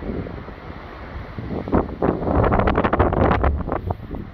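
Strong wind gusting outdoors beside a horse lorry, buffeting rumble building into loud choppy blasts against the microphone.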